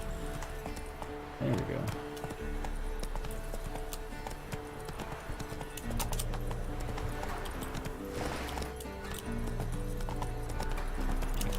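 Clip-clopping hooves of Roach, the horse in The Witcher 3: Wild Hunt, ride steadily under game ambience while someone talks over them.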